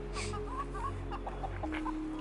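Chickens cluck in short, soft, scattered calls close by outdoors beside a small river, over a steady low rumble of background noise.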